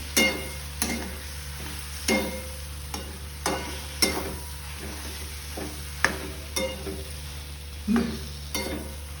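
Mashed boiled potato filling for vada pav being mixed in a pan, with a steady low hum underneath and regular scraping strokes about once a second, fairly close and clear, with no talking.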